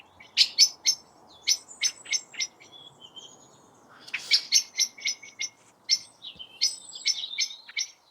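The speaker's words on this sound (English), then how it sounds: "And there are robins singing." Robins sing brightly and high in repeated short bursts of trilling notes, fairly close, in a garden with quiet background and no talking.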